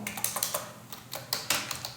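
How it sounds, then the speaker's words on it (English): Text typed on a computer keyboard, a quick, close run of light clicking keystrokes in an uneven rhythm, alone and fairly quiet. "Then you start typing the text."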